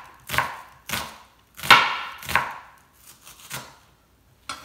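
A small onion is cut into strips with a knife on a cutting board, giving about eight sharp, close chopping thuds at an uneven pace with short gaps between them and no talking.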